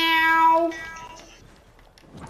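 A person's voice imitates a cat, giving one drawn-out, close meow that fades into quiet room sound.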